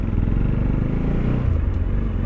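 A motorcycle engine in a parking lot rumbles loud and close at a steady low idle, and its throb shifts partway through, with no talking.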